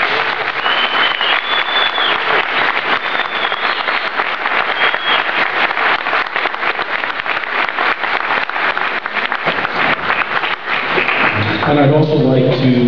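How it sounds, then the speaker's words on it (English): Sustained audience applause at a community forum, loud and steady for over ten seconds, with a voice beginning to speak over it as the clapping fades near the end. "Can I have your applause, please?"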